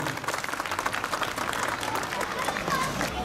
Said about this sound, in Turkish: Alkışlarınızla başkanımızı sahneye davet ediyorum.